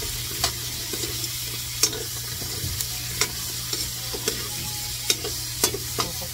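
Okra stir-fried in oil for a Bicol-style pinakbet gives a steady close sizzle, broken by sharp utensil scrapes and clicks every second or so, with a low constant hum underneath.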